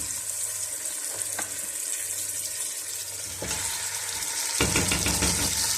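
Pieces of meat fry in oil in a pan with a continuous soft sizzle, broken by a few louder crackling bursts and clinks as the pan is handled, close and without talk.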